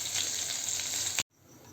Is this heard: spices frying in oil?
yes